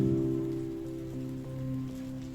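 Rain falls softly and continuously on surfaces in foggy Munnar, a faint patter under a calm musical backing, with no one speaking.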